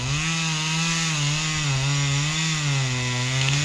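A ported Husqvarna chainsaw cuts snags and small trees while clearing a cabin site, its engine holding a loud, steady high-revving whine with slight pitch wavers as the chain bites into the wood, alone and close.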